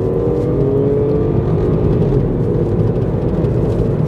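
An F56 MINI Cooper 1.5 accelerating on the road, heard from inside the cabin as a loud, steady engine drone with a rising tone and constant road rumble throughout.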